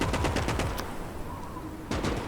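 Rapid bursts of machine gun fire from a World War II German campaign in the RTS game Gates of Hell, a dense rattling volley that pauses briefly and then resumes with another loud burst.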